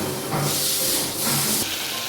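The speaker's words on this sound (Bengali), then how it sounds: "তেল ছাড়তে শুরু করলে মশলা ধোয়া জলটা দিয়ে দিচ্ছি" Spice-rinsing water hits hot oil and masala in a pan for a Bengali bora alu dalna, giving a loud, continuous broadband hiss that swells and dips in two waves.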